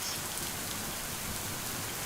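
Steady, dense rainfall in a video game, a continuous close hiss of drops on surfaces with no pauses and no voices.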